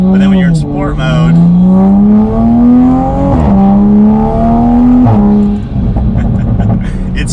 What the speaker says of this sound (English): Having the two tones of the exhaust sound, the closed and then open valve